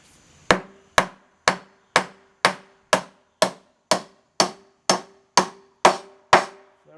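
Steady hammer blows striking nails into wood, about a dozen sharp evenly spaced hits with ringing decay, close and loud, no talking.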